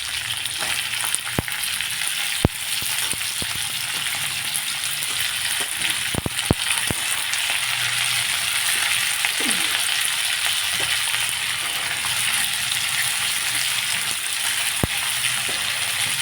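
Hyacinth bean pods fry with browned garlic in a pan, giving a steady close sizzle throughout, with scattered sharp clicks and taps from stirring.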